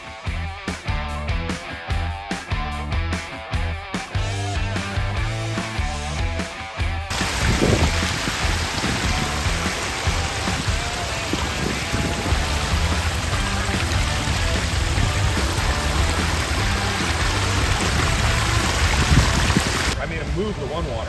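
A backyard pond waterfall pours and splashes steadily, a loud continuous rushing wash up close that starts after an opening stretch of other sound and stays even until near the end.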